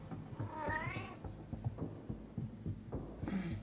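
A sick cat with a gruesome ear infection gives a faint, wavering meow that rises and falls, then a second short mew near the end, over a low throbbing background hum.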